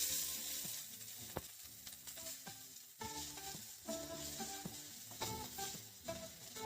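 Chopped onion sizzles in hot oil with garlic and ginger, a low, steady frying hiss with crackles and light scraping stir sounds, quiet and close.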